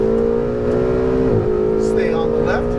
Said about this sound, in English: Now accelerate out to the far green cone,